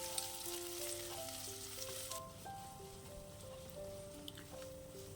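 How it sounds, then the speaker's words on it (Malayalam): Sliced onions and fresh curry leaves sautéing in oil in a pan for a Kerala tomato and drumstick curry, a steady close sizzle heard beneath soft background music. "കൂടെ തന്നെ കുറച്ചേറെ ഫ്രഷ് ആയിട്ടുള്ള കറിവേപ്പിലയും ചേർത്ത് നല്ലവണ്ണം ഒന്ന് വഴറ്റിയെടുക്കണം"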